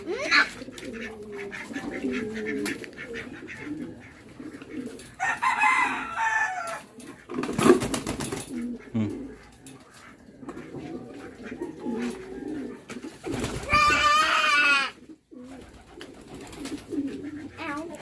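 Pigeons coo close by amid other fowl calls, soft throaty bursts coming in uneven clusters with short pauses, alongside brief fluttering noises and scattered ambient sounds.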